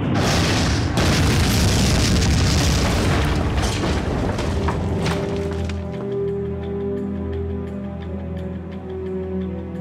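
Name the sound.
V2 rocket explosions in a WWII documentary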